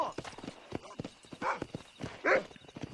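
Horse hooves clip-clop in a quick, even rhythm in the Western video game Red Dead Redemption, close and fairly loud, with a few brief louder snorting or whinnying bursts in between.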